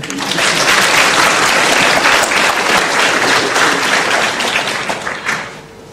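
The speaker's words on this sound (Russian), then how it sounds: "Аплодисменты" Sustained audience applause at a live talk event, loud and dense clapping from a crowd that holds steady for about five seconds before tapering off near the end.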